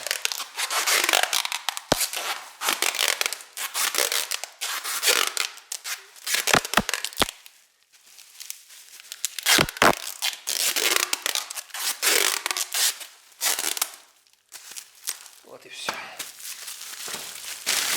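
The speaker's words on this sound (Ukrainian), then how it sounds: "Скотч." Adhesive packing tape is pulled off the roll, torn and pressed down during packing, giving repeated loud crackling rips and rubbing, close by, with brief speech among them.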